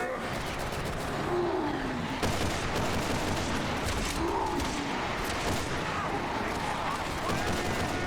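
Gunfire in Resident Evil 6 during Leon's first chapter: dense, sustained volleys of shots and blasts form a constant loud wall of combat noise, with faint vocal sounds mixed in.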